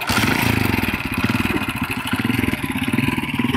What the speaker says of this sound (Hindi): मोटरसाइकिल में बैठना भी नसीब नहीं था।